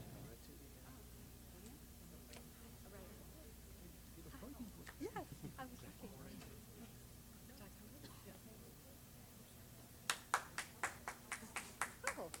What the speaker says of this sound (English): Larry, Melrose Green, we thank you for the applause